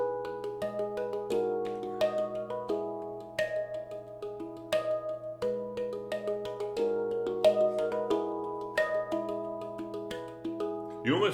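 A handpan plays a rhythmic pattern with soft ghost notes tucked between the struck tones, a clear ringing steel sound heard alone and fairly quiet.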